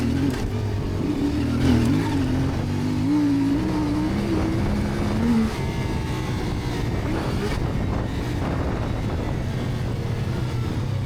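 A CFMoto CF450 quad's engine drones steadily with a rising and wavering tone as the throttle opens on a rough trail, loud and close with wind buffeting over it, then settles into a rougher, lower roar.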